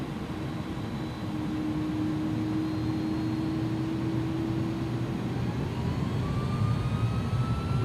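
Simulated jet engines of an Airbus A300-600R(F) in X-Plane 11 spool up into a steady, loud rising whine over a deep roar, with a tone sweeping upward near the end.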